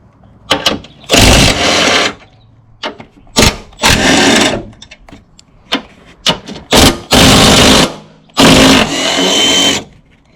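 Front strut mount bolts on a 2007 Toyota Camry LE are zipped off with a power tool in loud, close bursts of about a second each, several in a row with short pauses between.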